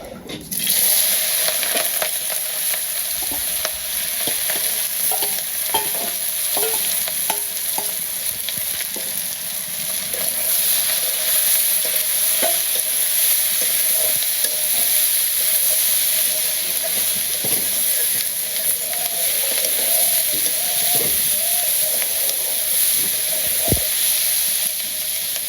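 Potatoes and bitter gourd fry in hot oil in a wok, giving a loud, continuous close sizzle with scattered stirring clatter over about half a minute and no talk.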